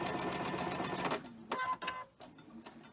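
A sewing machine stitches across pinned quilt pieces for a mystery quilt, running in a loud, steady whir for about a second before stopping, followed by faint handling and rustling sounds.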